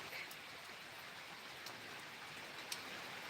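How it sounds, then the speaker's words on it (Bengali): Light drizzling rain during Cyclone Remal, a faint, even hiss of fine drops falling outdoors, with an occasional soft drip, no talking. "ঝিরিঝিরি বৃষ্টি হয়েই যাচ্ছে"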